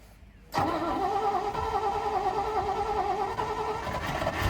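An old car engine, refilled after running out of gas, fires up abruptly after a brief quiet moment and then keeps running at a steady, rough idle, fairly close.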